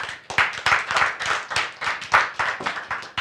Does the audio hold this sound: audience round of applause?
yes